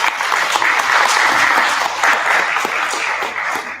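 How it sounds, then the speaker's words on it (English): A loud, dense round of applause from an expo audience welcoming a speaker to the stage, steady throughout and tapering slightly near the end. "applause."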